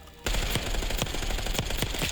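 Rapid automatic gunfire in a shooter video game, loud and continuous, with sharp bursts of shots repeating over a dense background of weapon noise and no talk.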